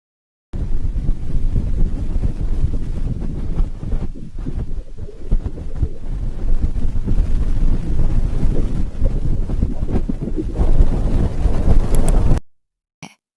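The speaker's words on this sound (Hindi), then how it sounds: "यह आवाज सूरज की है, जिसे नासा ने सोलर पार्कर द्वारा रिकॉर्ड" Sound of the Sun as recorded by NASA's Parker Solar Probe: a loud, steady, windy roar with deep rumbling and a hissing wash on top, running continuously for about twelve seconds and then stopping abruptly, with no voices.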